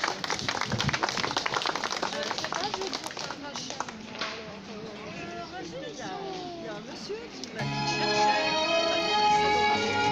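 An audience claps for a singer taking the stage at a school community concert, a burst of close, scattered clapping at first, then thinning under murmured talk before music begins near the end.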